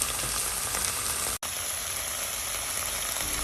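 Basil chicken with oyster sauce sizzles steadily in a hot pan as it is stir-fried, a continuous dense hiss with a brief break partway through.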